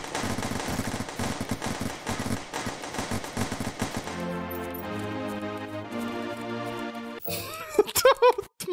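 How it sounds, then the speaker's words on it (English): Rapid machine gun bursts rattle in the video game Cyberpunk Girls, dense repeated shots for about four seconds before giving way to sustained synth tones and a final burst of sharp effects. "Is that a machine gun? It is."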